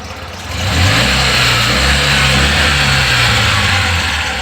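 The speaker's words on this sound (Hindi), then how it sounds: "फैन चल रहा है आगे से, पंखा चलना बहुत ज़रूरी है" A Tata Ace Gold mini truck engine runs steadily with its cooling fan turning, a loud close droning hum with a deep low rumble that rises slightly and holds without any voices.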